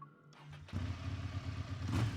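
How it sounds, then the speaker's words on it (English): A vehicle engine in a tunnel in the game Love and Deepspace turns over and catches, settling into a low, steady rumbling idle that swells slightly toward the end. "I start the engine and twist the device in my hand."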